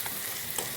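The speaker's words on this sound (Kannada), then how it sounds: "ಇವಾಗ ಒಂದು 5 ಸೆಕೆಂಡಿಗೆ ಎಣ್ಣೆಯಲ್ಲಿ ಫ್ರೈ ಆದರೆ ಸಾಕು" Cabbage and egg sizzle in hot oil in a pan for a brief moment, a close, steady crackling fry.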